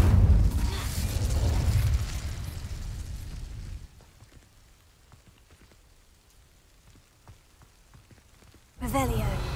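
An Incendio fire spell ignites dry vines in Hogwarts Legacy: a loud rushing, crackling roar that fades into a quiet stretch of faint ticks and pops, then a sudden fiery burst flares up again at the end.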